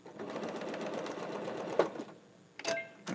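A sewing machine stitches quilt fabric in a fast, steady run of needle strokes, stops, then gives a few short clicks and a brief restart nearby.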